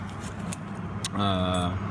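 Car keys jangle near the mic with a few quick clinks, then a steady tonal hum rises partway through, all over low background noise.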